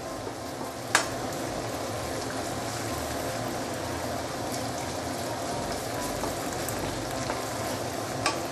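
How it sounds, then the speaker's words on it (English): Egg fried rice with whitebait sizzles steadily in a hot pan while being stir-fried, a continuous close crackle with a couple of sharp clanks from the utensil. "you have to keep on stirring"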